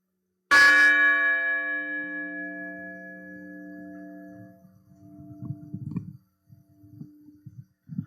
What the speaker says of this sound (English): they ring the bells and listen to the wind chimes of this new memorial